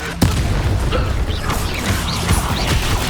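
Fiery Confringo curse explosion in the video game Hogwarts Legacy, a sharp crack followed by dense crackling, whooshing blast noise that stays loud and close throughout, with battle sounds mixed in.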